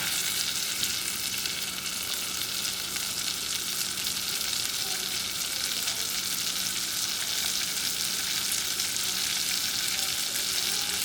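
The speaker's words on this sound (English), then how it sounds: "We're gonna melt the butter." Butter melting in a hot pan gives off a steady, even sizzle that hisses without a break from start to finish, with no voices over it.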